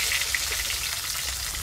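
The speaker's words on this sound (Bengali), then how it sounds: "মাছের মাথাগুলো কিন্তু বেশ ভালো করে ভাজা ভাজা হয়ে গেল" Rohu fish heads fry in a pan in village-style cooking, giving off a continuous, close oil sizzle with fine crackles and brief pops at a steady level, with no talk.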